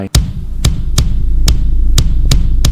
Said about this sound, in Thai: เสียงหัวใจอะ